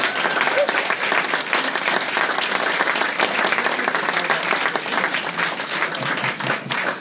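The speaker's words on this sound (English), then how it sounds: "And another round of applause for this guy." Audience applause for a band member at a live concert in a small venue, dense continuous clapping from the crowd that holds steady for several seconds, with faint voices underneath.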